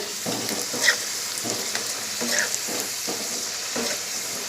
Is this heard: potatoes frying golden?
yes